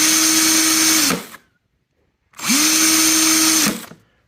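An electric drill whirs up twice in loud, close bursts of roughly a second each, spinning up quickly, holding a steady whine, then winding down with a short silence between.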